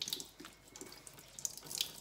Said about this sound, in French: Je vais également passer le rouleau sous l'eau